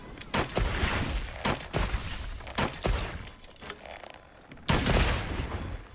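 Bow firing the Dragon Piercer in Monster Hunter Wilds, a series of sharp loud impact bursts in irregular rapid succession, with a heavier blast near the end.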